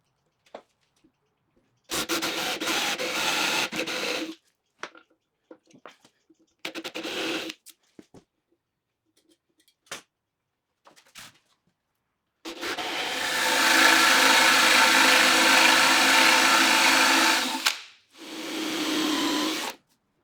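A Forstner bit bores a recess into wood for a nut and washer on a steel-and-wood workbench build, in several separate bursts of whirring and cutting, close and loud, with a longer steady run near the end.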